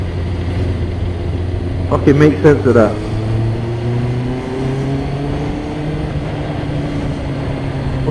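Road traffic passing while riding a motorbike on a congested commute, a steady engine drone and low rumble with a brief louder burst near the start, someone talking over it.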